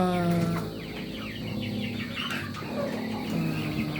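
Pet backyard chickens on a small hobby farm cluck and squawk steadily at feeding time, a busy close flock with overlapping calls and no talk over them.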